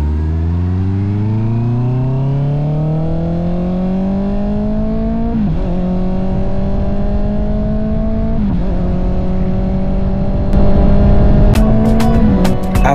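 A Honda CB650R motorcycle riding a road in Batangas, its engine climbing steadily in pitch through several gear shifts with brief dips, loud and close with wind noise, and sharp clicks near the end.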